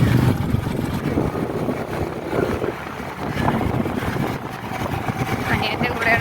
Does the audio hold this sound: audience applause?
no